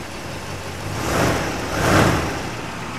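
A 1971 AMC Ambassador Brougham with a single exhaust and chrome tip idles softly nearby, a quiet, smooth hum that rises gently twice in brief swells.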